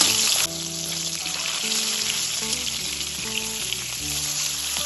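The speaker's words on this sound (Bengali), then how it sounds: "মাছের এক পিস ভাজা হয়ে গেছে আমি এবার এটা উল্টে দিলাম" A salted, turmeric-coated fish piece, just flipped, keeps frying in mustard oil with a steady, bright crackling sizzle up close, over light background music.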